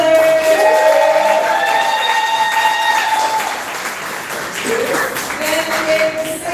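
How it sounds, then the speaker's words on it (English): A crowd at the Southern Fried Poetry Slam claps loudly for a placing poet, with whoops and shrill cheers over the steady applause, which eases briefly and then swells again. "y'all clap it up for Catherine Rose."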